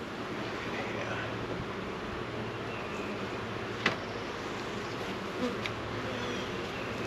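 Honeybees hum around a newly set-up backyard hive during a weekly checkup, a steady close buzzing drone with a few brief louder passes near the listener.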